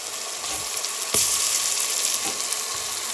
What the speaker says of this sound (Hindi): अब मैं इसमें एक अदर टमाटो डाल रही हूँ काट के